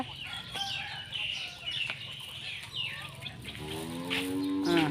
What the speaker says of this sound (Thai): มาถึงเห็นเจ้าของก็ร้องเรียกใส่แล้ววัว